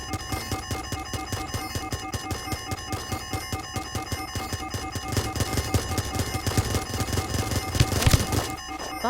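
Rapid bursts of video game gunfire crackle almost without pause, dense and loud throughout, building to a sharper peak near the end.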